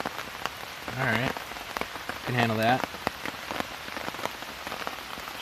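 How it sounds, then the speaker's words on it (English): Heavy rain pours onto a tent in a dense, continuous close patter, with someone speaking two short phrases over the steady downpour. "It's really raining now."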